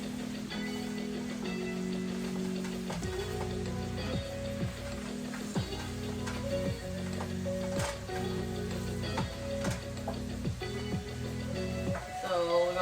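Baked ziti sauce sizzling and spitting in a pot on the stove, a steady crackle of small pops running under a voice and some music-like tones throughout.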